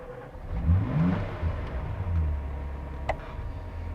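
A Ferrari F40 engine starts and rumbles low and steady, with a brief rise in revs and a sharp click partway through, heard up close.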